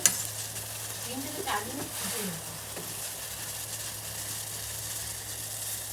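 Water boils in a pot on a traditional earthen stove, giving a steady, fairly quiet bubbling hiss throughout, with no one talking.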